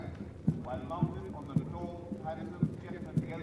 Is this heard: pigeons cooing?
no